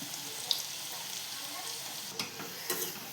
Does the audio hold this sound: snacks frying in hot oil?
yes